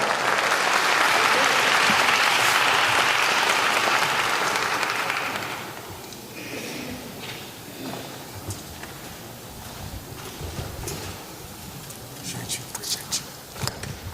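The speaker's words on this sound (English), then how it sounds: "Give him a rousing round of applause." A crowd in a church hosting a mayoral candidate debate breaks into loud, sustained applause for several seconds, then it thins to scattered claps and room noise with murmuring.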